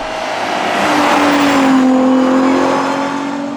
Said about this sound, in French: Un petit coup de V12 6 litres 5, ça fait plaisir à tous les passionnés.